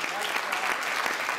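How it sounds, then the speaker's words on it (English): A crowd at the 2016 Democratic National Convention in Philadelphia breaks into continuous applause, a dense wash of clapping heard from within the hall, with faint voices underneath. "Give them a round of applause"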